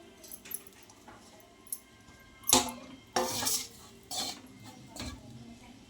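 Mutton gravy with coriander leaves is fried and stirred in a pan, giving scattered metallic clinks and scrapes of a utensil against the pan, a few sharper knocks, close and alone with no voices.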